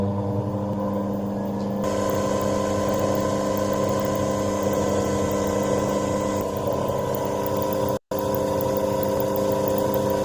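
An alternator on a test rig runs with a steady mechanical whine and hum, the tone shifting slightly as it spins, broken by a brief cut of silence near the end.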